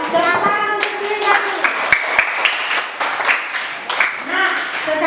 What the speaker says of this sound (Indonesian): Tepuk tangan untuk Linda.